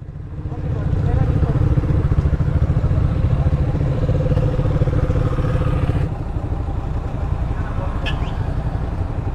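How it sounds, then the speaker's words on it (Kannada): A motorcycle engine, fired up after being parked overnight, comes in within the first second and runs loud and close with a throbbing, slightly uneven idle that lasts throughout. "ಗಾಡಿ ಆನ್ ಮಾಡ್ಕೊಳ್ಳೋಣ"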